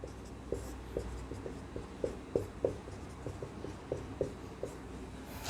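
A maths function written out in factorized form by hand, with quick tapping and scratchy pen strokes in an uneven rhythm, close but soft over a low steady room hum, with no one speaking.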